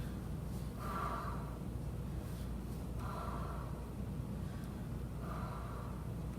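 Someone breathes in and then blows out slowly, as if blowing up a balloon, repeating three soft, even exhalations in a quiet room.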